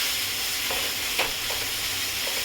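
Spice masala paste fries in a pan for a jackfruit curry, giving a dense, even sizzle up close with a few soft stirring scrapes and no talk.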